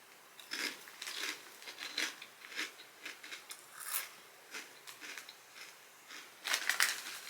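Plain potato chips bitten and chewed up close, a run of sharp, crisp crunches at an irregular pace with brief pauses, ending in a louder burst of crunching, with no talking.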